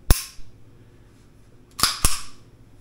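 Trigger of an unloaded, magazine-free gun being pulled, then reset during cleaning: one crisp dry snap, a short pause, then two quick sharp clicks close by.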